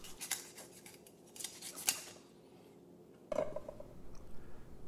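A knife cuts the pelvic fins off a mullet: quiet, close snips and scrapes in short bursts, with a brief pause before another cut.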